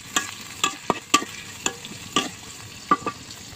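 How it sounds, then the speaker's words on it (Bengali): Onion, green chili and garlic lightly frying in soybean oil, a continuous close sizzle broken by sharp clicks and scrapes of a spatula stirring the pan every half second or so. "হালকা করে তেলের সাথে ভেজে নেব।"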